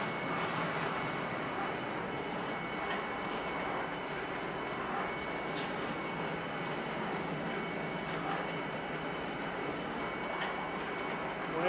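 A train in the Star Citizen video game rolls along with a steady, continuous rumble and hum, faint clicks now and then, heard alone without any voices over it.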